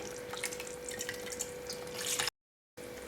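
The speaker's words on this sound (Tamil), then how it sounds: "இன்னும் கூட கொஞ்சம் தண்ணி ஊற்றி" Water splashing and trickling steadily into a vessel while making vanjaram fish curry, for about two seconds, followed by a brief silent gap and then more running water.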